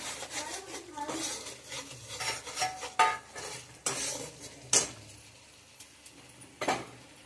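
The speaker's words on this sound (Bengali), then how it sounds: "ভালো করে মশলাটা আমরা কষবো।" A metal spatula stirs and scrapes spice masala in a frying pan in uneven bursts of clinks and rubbing strokes, with a faint sizzle underneath and a few sharper knocks against the pan.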